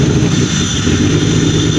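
A BMW 3 Series with a converted MS43-to-MS42 throttle body runs with a steady, loud engine drone close by, slightly rising like a light rev, with no talk over it.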